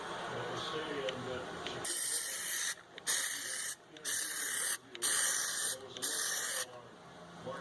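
An aerosol can sprays Plasti Dip onto the emblems of a 2017 Jeep Compass in loud, close hissing bursts, five or six spurts separated by short breaks, faint talk beforehand.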